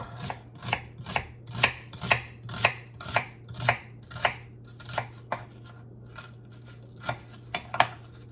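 A knife chops parsley on a board in quick, regular strokes, about sixteen crisp close cuts, slowing and thinning out toward the end.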